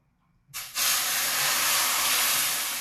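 Sweetened milk hits hot semolina halwa in the pan, setting off a sudden, loud steam hiss after a short silence that holds strong and steady to the end, with no talking.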